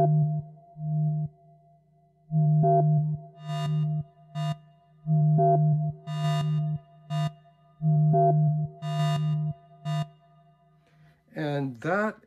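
FM synthesizer tones sequenced through a low pass gate as an envelope, sounding as a repeating pattern of short and longer plucky notes with a steady hum beneath, clean and alone, ending in a brief sweeping chirp.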